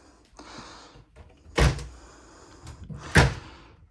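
An RV kitchen drawer in a 2025 Columbus 383RLH glides along its runners and shuts twice with solid, close thunks. The sliding rumble before each closure is softer, and no one talks.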